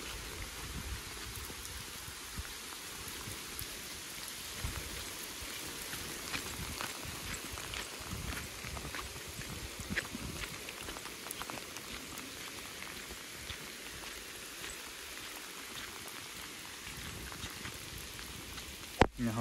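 Heavy rain pours steadily at Ranthambore Fort, a dense, even hiss of drops on surfaces that holds without pause throughout.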